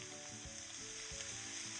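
Onions sizzle and crackle steadily in a hot pan, with a soft rhythmic scraping as they are stirred.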